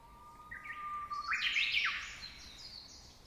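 A small Eurasian siskin gives a thin, rising call that swells into a brief buzzy chirp, faint against a quiet background.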